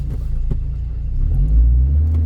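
A 2005 Chevy Colorado engine cranking with a rapid pulsing starter chug, then catching into a deeper steady idle rumble, close and loud.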